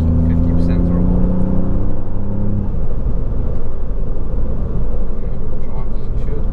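Tuned Ford Fiesta MK8 ST hatchback driving at roughly half throttle, a steady loud engine drone and road rumble with a low humming tone early on, continuous from start to finish.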